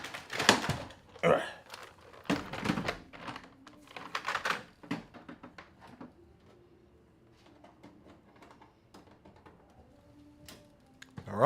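Fingers tap on a computer keyboard in quick irregular bursts, loudest early and then thinning to sparse faint clicks, with someone speaking briefly nearby.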